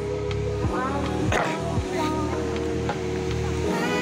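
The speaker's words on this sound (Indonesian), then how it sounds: "ombaknya lagi gede, lagi pasang" Big high-tide ocean waves roll in on Menganti Beach, making a constant broad rushing roar under occasional nearby voices.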